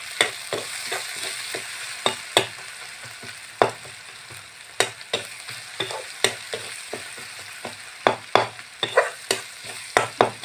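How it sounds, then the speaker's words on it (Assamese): A spoon stirs a salted fish curry with haritaki in a pan, sharp scraping strokes repeating irregularly over a soft continuous sizzle, close and fairly clear, no talking. "আকৌ অকণমান লৰাব লাগিব।"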